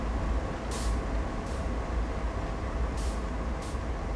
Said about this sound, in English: I'm hearing lots of hissing.